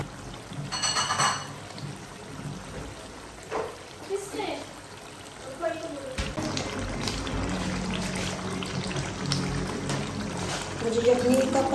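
Mutton yakhni stock poured into a pot of achari mutton curry, a splashing, gurgling pour mixed with cooking sizzle while someone talks over it.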